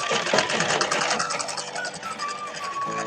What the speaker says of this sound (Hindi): तो यहाँ से हम सिलाई लगा लेते हैं।